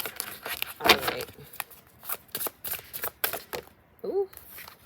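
Tarot cards riffled and shuffled by hand in a series of quick papery bursts, close and fairly loud, with brief pauses between shuffles and a short vocal sound near the end.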